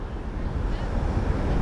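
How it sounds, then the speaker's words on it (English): Steady wind buffets the microphone in a low, continuous roar, with faint surf-like rushing beneath it and no clear breaks. "It is windy and chilly though."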